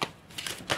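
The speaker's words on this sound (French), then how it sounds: "Je vais d'abord battre les cartes." Oracle cards are shuffled by hand in a brief, quiet flurry of papery riffles and slaps, close up.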